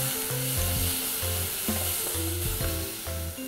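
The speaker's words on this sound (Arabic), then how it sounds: "هقلب البصله لحد ما تدبل وبعدين هضيف الثوم" Chopped onion frying in oil for a curry sauce, a continuous close sizzle broken by repeated scraping stirs in an even rhythm, with no talking.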